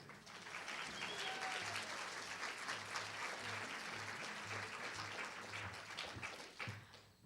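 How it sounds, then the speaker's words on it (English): Audience at a Chicago mayoral candidates forum applauds steadily and warmly for several seconds, a dense wash of clapping that tapers off at the end. "So please welcome, with your warm applause, Kathy Cheney, the president of NABJ."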